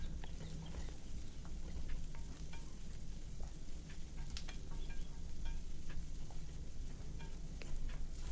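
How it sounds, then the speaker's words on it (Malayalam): Sliced onions, slit green chillies and curry leaves sauté in a pan for a beef masala. A dense, even sizzle runs throughout with faint stirring scrapes, heard close and alone. "ഇനി ഇതിലേക്ക് സവാള അരിഞ്ഞത് പച്ചമുളക് കീറിയത് വേപ്പില എന്നിവ ചേർത്ത് കൊടുത്ത് ഒന്ന് വഴറ്റിയെടുക്കാം"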